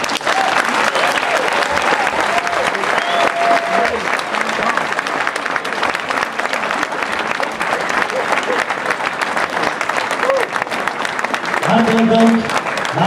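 Sustained audience applause at the Diamondcup event, a large crowd clapping continuously and loudly throughout, with a few faint voices and brief tonal sounds rising through it.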